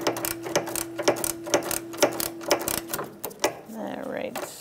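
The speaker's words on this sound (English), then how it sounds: "I'm using a pole on my ratchet just to give me a little bit more muscle" Ratchet wrench with an extension pole clicking in a steady run of sharp ticks while loosening a nut on the front lower control arm of a 2000-2007 Ford Taurus, close and fairly loud, fading out near the end.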